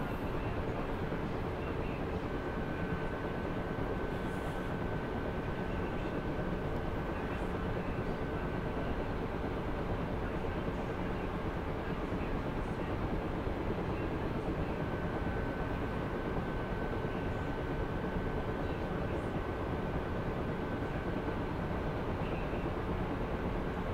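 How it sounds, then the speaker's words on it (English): The right engine of a Ka-50 Black Shark helicopter spools up in the DCS flight simulator as a steady, continuous turbine drone with a faint high whine. It stays even and unbroken throughout, with no voices. "Right engine is spooling up perfectly now."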